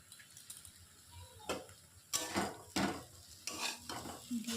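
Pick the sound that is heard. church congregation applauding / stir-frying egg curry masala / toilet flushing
stir-frying egg curry masala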